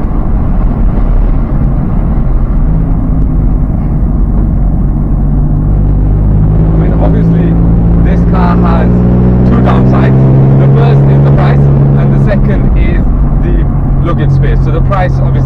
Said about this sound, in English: with the V6 engine is just sublime. It has torque whenever you need it. And it sounds incredible.